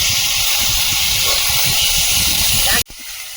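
Bottle gourd stems added to potatoes frying in a pan, producing a loud, steady hiss of sizzling oil that cuts off abruptly near the end.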